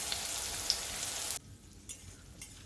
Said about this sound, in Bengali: উচ্ছেগুলোর একটা পিঠ ভাজা হয়ে গেছে তো উল্টে দিয়ে আবারও একটা পিঠ করে নিয়ে আবারও ছড়িয়ে দিলাম